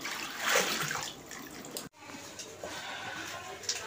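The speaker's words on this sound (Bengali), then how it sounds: "এই তো ধুয়ে নিচ্ছি এখন" Leafy greens are rinsed under running tap water, giving a steady splashing hiss that briefly cuts out midway and then resumes, close and moderately loud, with no talk over it.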